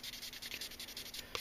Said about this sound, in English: Lots and lots of sanding.